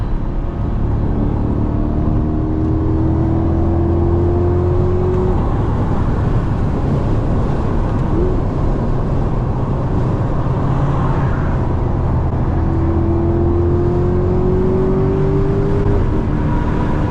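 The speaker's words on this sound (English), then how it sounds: "This exhaust sounds just stock as is." A Chevrolet C8 Corvette with a stock exhaust drones steadily at speed, a loud, continuous engine roar with rising pitch sweeps as it accelerates, mixed with road and wind noise.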